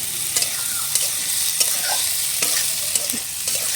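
Vegetables sizzle and fry in a pan with turmeric, cumin, coriander and chilli powder for a village khichuri, a steady close hiss broken by short stirring scrapes.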